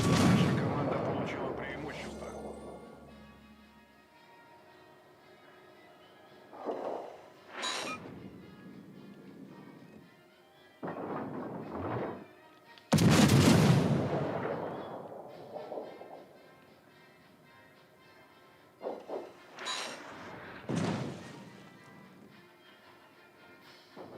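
Heavy booms from warship cannons fire broadsides in a naval video game. The deep blasts are spaced apart over a low rumbling background, and a voice talks between them.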